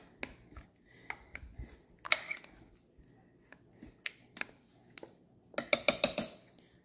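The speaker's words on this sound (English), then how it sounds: "Now I'm going to take the potato masher and just kind of mash down some of my bigger pieces" A potato masher works through chunky vegan broccoli cheez soup in a metal pot, giving irregular clinks and soft squelching thumps, then a quick cluster of metallic scraping clatter near the end, close and without talk.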